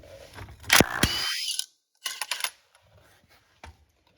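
A hand ratchet loosens the 27 mm rear axle nut on a Polaris Ranger XP 900/1000 side-by-side, giving a few close, loud bursts of rapid clicking separated by short pauses.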